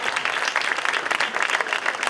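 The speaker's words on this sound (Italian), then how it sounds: "un applauso al nostro Alfonso" An audience at an Italian festival applauds a performer named Alfonso with dense, even clapping throughout, fairly close and without pause.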